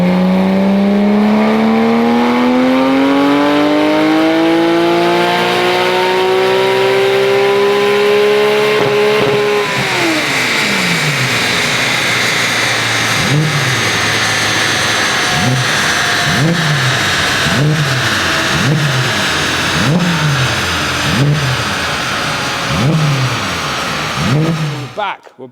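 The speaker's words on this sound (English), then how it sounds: "So you've obviously heard the car on the dyno." A Porsche 991.1 GT3 RS with a Grail catback exhaust revs up loudly on a dyno, its pitch climbing steadily to a high scream before dropping off, then a string of sharp, repeated blips and revs follows.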